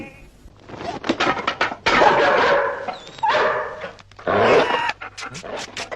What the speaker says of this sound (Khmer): អាសេងមិនក៏បលឹមឡើងឆ្លោះជាមួយឆ្កែអញ្ចឹង